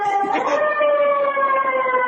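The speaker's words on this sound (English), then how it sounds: "hit the siren" A loud fire truck siren wails close by, its steady tone rising slightly then holding high, sounding continuously throughout.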